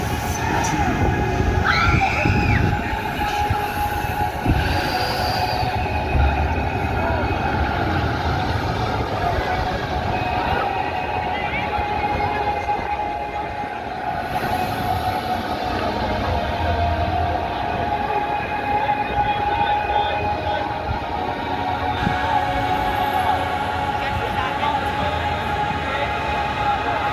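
The Launchpad amusement ride runs at Blackpool Pleasure Beach with a loud, continuous mechanical rumble and rattle for nearly half a minute, swelling and easing slightly, with faint voices mixed into the din.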